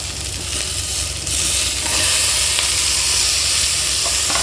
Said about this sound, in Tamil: தக்காளி வதங்கிடுச்சு.